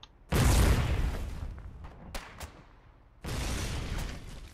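A gunboat in the game Foxhole fires a fragmentation round: a heavy booming blast that rumbles away, a few faint knocks, then a second loud roaring burst, with no talking.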